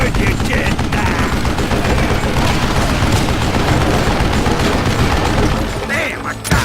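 Sustained rapid gunfire from an Old West shooter, Call of Juarez Gunslinger, loud and continuous with dense overlapping shots and booms, a shouting voice mixed in over the barrage.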